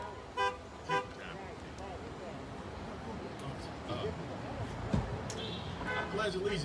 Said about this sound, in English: Everybody that you can, honk your horn one time.